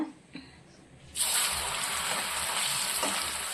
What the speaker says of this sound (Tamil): இந்த எண்ணெயில் நான் இந்த சேப்பங்கிழங்க வந்து போட்டு எடுத்துக்கிறேங்க